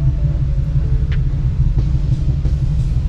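A Renault Twizy electric car fitted with a DIY battery upgrade drives around, giving a steady low road rumble inside the cabin with a few faint ticks and clicks over it.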